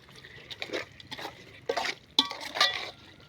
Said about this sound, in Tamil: ஒரு கிலோ சிக்கன் எடுத்து சுத்தம் பண்ணி வச்சுருக்கோம் அதை போட்டுக்கலாம் நல்லா மிக்ஸ் பண்ணி விட்டுக்கலாம்